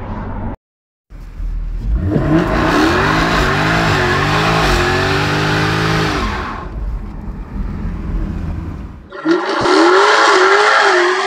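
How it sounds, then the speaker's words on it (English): A Jaguar F-Type R revs hard during a burnout, its engine rising and falling loudly up close with tire squeal and skidding. It drops off briefly before a second harsh burst of squealing tires near the end. "But I did try to do a few burnouts kind of."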